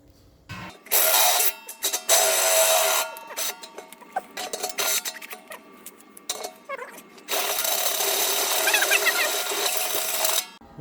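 A step drill bit cuts a hole through the stainless wall of a new brewing kettle, loud sustained grinding and whining in long bursts broken by short pauses and clicks, close up with no talk.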